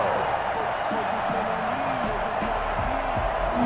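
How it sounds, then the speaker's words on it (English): Dense crowd roar fills a football stadium during a 49ers vs Jets game ahead of a big third down, a steady wall of cheering with a commentator talking over it throughout. "The crowd getting into it as we come up on a big 3rd down."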